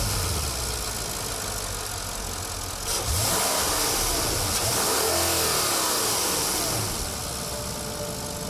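A Porsche Panamera Turbo S long-wheelbase executive version pulls away on the road. A low engine rumble swells into a loud acceleration roar with a rising tone for about four seconds, then settles back, with no speech.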